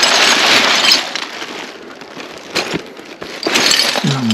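Broken glass is cleared away from rubbish in a bat bunker, shards scraping, clinking and rattling loudly in uneven bursts as pieces are swept and shifted.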